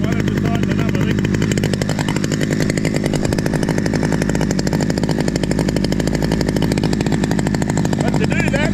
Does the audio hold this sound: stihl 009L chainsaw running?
yes